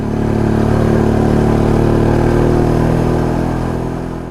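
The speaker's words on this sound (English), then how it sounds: "This is the motorcycle, the ESD D250 Classic" A Jawa Yezdi D250 Classic two-stroke motorcycle idles close by with a steady, loud, buzzing engine note and a faint rhythmic clatter. The sound holds throughout and eases slightly at the end.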